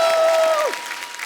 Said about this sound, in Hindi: तो एक बार अक्षय बाजी और परिणीति के लिए जोरदार तालियां हो जाए।